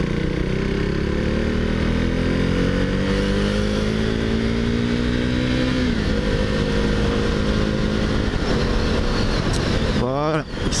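KTM Duke 390 motorcycle riding through traffic and pulling out to overtake, its single-cylinder engine droning loud and close with gear-change pitch steps, rising revs near the end, over road and wind noise.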